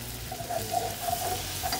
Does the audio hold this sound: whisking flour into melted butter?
yes